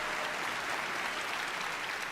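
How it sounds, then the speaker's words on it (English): A large BlizzCon 2023 convention crowd gives a brief, dense burst of applause, loud and even throughout. "That deserves a little bit of better clap there."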